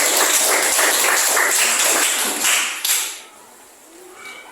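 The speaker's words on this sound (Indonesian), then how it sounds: "berikan tepuk tangannya kepada kelas 1" Classroom of students clapping for a student group, a loud burst of mixed hand claps lasting a few seconds before fading into quieter room noise.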